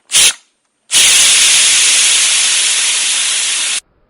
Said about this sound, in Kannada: ಅಥವಾ ಕುಕ್ಕರಿನ ಶಬ್ದ